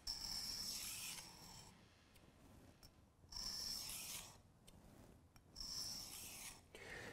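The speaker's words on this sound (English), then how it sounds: "we're gonna start with the tip here, and then we're gonna move across that stone this way" A kitchen knife is drawn across a 1,000 grit whetstone in three long, rhythmic rasping strokes, each a close scraping sweep followed by a short pause and light clicks.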